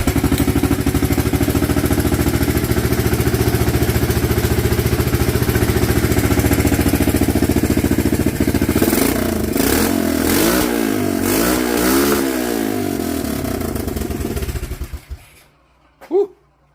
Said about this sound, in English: It's actually a pretty healthy motor.